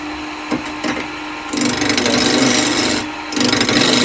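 Wood spinning on a lathe as a cowboy hat is turned, with a steady scraping, rasping cut that runs continuously and grows louder and denser in the middle, fading briefly before resuming, close and without speech.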